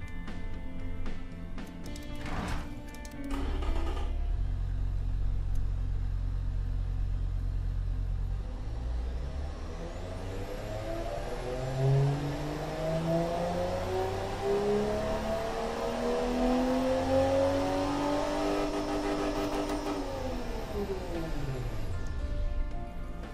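Luxury saloon engine in the car-building game Automation revving up from idle, a steady low drone rising into a climbing, whining roar, holding high, then falling back down, loud and alone.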